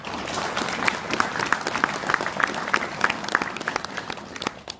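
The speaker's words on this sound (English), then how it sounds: "I want you to give yourself a round of applause." An audience applauds itself after a speech, a loud, sustained crowd clapping with crisp individual claps popping out in a quick, irregular rhythm before tapering off at the end.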